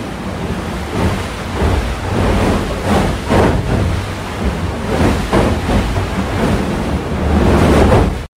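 Loud, constant roar of wind and breaking waves aboard a racing sailboat crossing the mid-Atlantic during an ocean race, with rhythmic surges of water and heavy wind buffeting the microphone, no voices.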